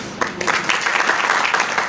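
Audience clapping in steady applause at an indoor event, a dense continuous patter of many hands lasting a couple of seconds with a faint voice at the start.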